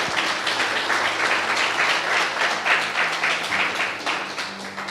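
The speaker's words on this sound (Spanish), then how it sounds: "Denle un aplauso al Señor" A church congregation applauds during a Spanish-language sermon, dense sustained clapping filling the room at close range for several seconds without pause.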